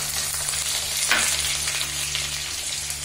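Green chilies and cumin sizzle in hot oil in a pan over a raised flame, a steady close crackling fry with a brief louder hiss of stirring partway through; no voices.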